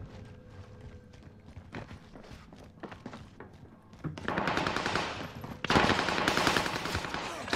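Gunfire in a video game shooter played as a quads match, starting as scattered shots and footsteps and then building into sustained, loud automatic fire in the second half, with no talk.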